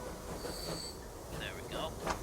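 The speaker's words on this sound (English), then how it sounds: "our train has made its way around the lake, and it's now increasing its speed towards its destination" A train rolls along in the Transport Fever 2 railway game, picking up speed with a steady low rumble of wheels on track and a few faint squeals and clicks.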